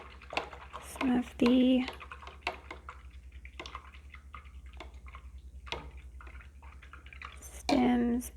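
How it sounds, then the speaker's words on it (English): An acrylic paintbrush is rinsed and tapped in a water cup, with clinks, swishes and drips in short bursts under a person talking quietly. "Now I'm going to rinse that out"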